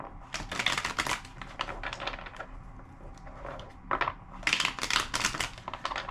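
A tarot card deck is shuffled in quick bursts, crisp riffling and clacking of cards close by, several short flurries separated by brief pauses.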